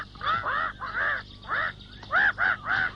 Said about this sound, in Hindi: क्यों चिल्ला रही हो मैना?